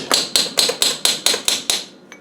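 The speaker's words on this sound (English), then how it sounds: "what I'm going to do is take a little chisel and tap this around" A hammer strikes a small chisel against a clip on an Adwest lightweight TDCi steering box: eight sharp, evenly spaced metallic taps, followed by one faint final tap.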